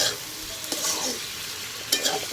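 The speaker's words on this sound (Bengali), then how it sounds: "বেগুনটা সুন্দর করে কষাই এখন ঢাইকা দেব।" Eggplant sautéing and being stirred in a pan over a wood-fired stove, a steady close sizzle with a few scraping stir strokes and no voices.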